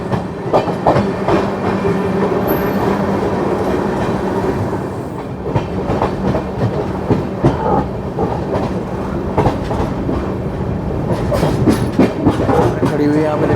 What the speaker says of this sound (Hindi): ये जा रही नेताजी 12312 नेताजी एक्सप्रेस जा रही कानपुर